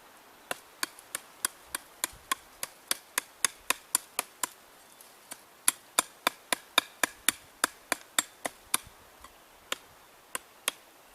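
A Cold Steel Bowie Bushman knife chops into Caragana wood with a steady run of sharp, woody knocks, about two or three blows a second, close up and with no voices.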